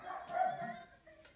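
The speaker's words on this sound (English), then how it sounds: "they're out there like barking up a storm." Dogs bark outdoors, a few short yaps and barks bunched together in a brief burst and heard from a moderate distance at low volume.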